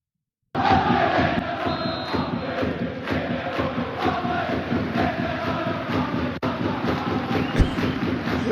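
Celtic football fans in a Scotland stadium setting a steady, dense crowd roar with cheering and clapping that holds loud and continuous throughout, with wind noise buffeting the microphone.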